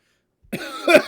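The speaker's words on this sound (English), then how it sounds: "And a cough at the end for me." A single sharp cough, close and fairly loud, breaking a brief silence and trailing into a second rougher throat-clearing burst near the end.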